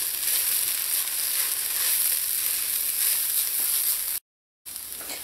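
Rice sizzles loudly in a pot while vegetable soup mix is stirred in for khichdi, a steady, close hiss that cuts out briefly near the end.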